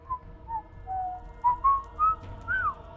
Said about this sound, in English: It's a nice tune you're whistling there, buddy.